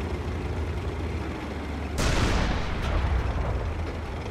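Tank main gun firing in the World War II tank combat game Panzer Knights, during a battle at Boulogne-sur-Mer, one loud booming blast that rises sharply out of steady engine rumble and then rolls off slowly.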